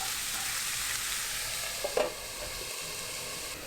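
Onions and minced meat sauté in a pan with a steady, moderate sizzle, close up, marked by a brief scrape of stirring around the middle and no talk.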